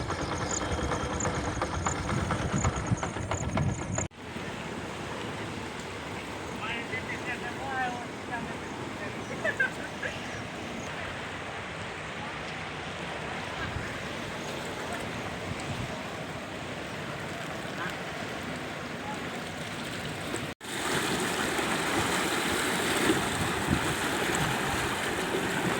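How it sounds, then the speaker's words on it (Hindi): Floodwater roars steadily through a drain channel, loud and close, with a faint voice talking under the flow and abrupt cuts in the recording. "कटआउट के नाला में देख सकते हो कितना बाढ़ बढ़ रहा है दोस्तों।"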